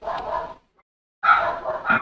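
Dogs bark in two short bursts of rough, overlapping woofs and yips, with a second of silence between them and no one talking.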